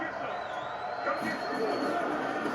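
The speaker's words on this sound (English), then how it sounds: "The crowd here in the Dome making things difficult." Dense, steady roar of a packed football crowd inside a domed stadium during a Buccaneers–Saints NFL game, sustained throughout, with commentary voices over it.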